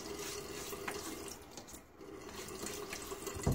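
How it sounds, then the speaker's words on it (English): Cold tap water runs and splashes into a bathroom sink as a face is rinsed during a winter shave, a steady close watery rush with small splashy bursts and no talking. "Splash my face one more time."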